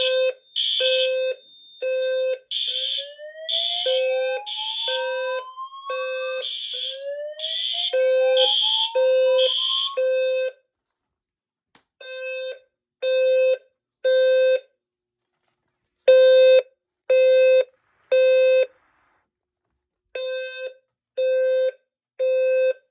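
A Notifier FSP-851 smoke detector on a sounder base, tested on a Notifier NFS2-640 fire alarm system, sounds loud pulsed electronic beeps in groups, with rising sweep tones over the first half, then further beep groups separated by short silences.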